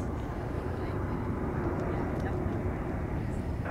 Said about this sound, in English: United 2332, wind calm, runway 1 right, good takeoff.